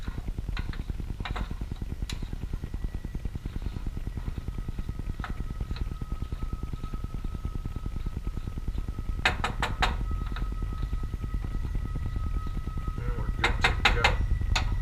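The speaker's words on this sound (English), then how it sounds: "I'm mostly just stirring all this up right now to make sure everything gets evenly distributed" Onions and tomatoes cook in a pan under a constant simmering sizzle, with occasional light taps and clinks of a stirring utensil against the pan, close and steady with no voice.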